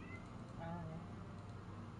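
A house cat meows faintly in the background during a For Honor game stream, the soft calls buried under ongoing talk and game noise.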